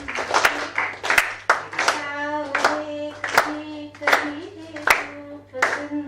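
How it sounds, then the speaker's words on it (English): Scattered hand claps ring out unevenly while voices talk over them, a small audience clapping close by after a song at a company singing competition. "Let's clap for her, please. Let's clap."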